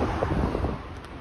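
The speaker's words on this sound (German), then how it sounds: "hier ist nämlich richtig Sturm" Storm-force wind buffets the microphone in a continuous roar, gusting heavily throughout with no voices heard.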